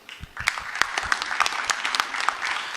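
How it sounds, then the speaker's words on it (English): Audience applause at a conference session in a convocation hall, light and fairly sparse, with distinct individual claps standing out over a soft background of clapping for a few seconds. "I think we owe them all a fairly warm round of applause"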